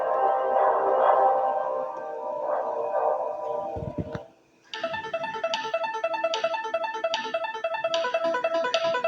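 Chiptune music from the Amiga game Supercars 2 plays through an RGB-SCART adapter on a Commodore Amiga, with bright, steady, repeating synth arpeggios starting after a short gap that follows some muffled handling noise.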